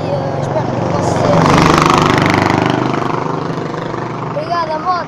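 A motorcycle engine buzzes nearby, swelling as it passes and then fading, with a voice speaking over it toward the end.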